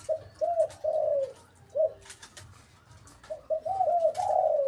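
A young dove kept caged for one month coos in a few short phrases, close and clear, separated by brief gaps, with faint background noise between calls.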